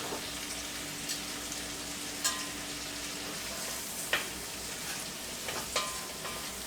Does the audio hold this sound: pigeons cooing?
no